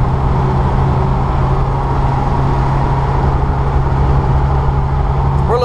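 A 1994 Jeep Wrangler YJ engine running at a steady, loud, even drone with a low hum throughout, continuous and unbroken, no voices.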